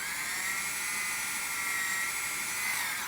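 A small high-pitched drill whines steadily while boring into a Mini4WD rear stay, close and loud, holding an even pitch before winding down at the end.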